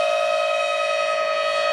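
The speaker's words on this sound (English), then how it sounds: "And the new sirens are going off too." Civil defense sirens in a San Diego emergency alert scenario, one steady, loud sustained wail with a strong pure tone and bright overtones, holding level without pause throughout.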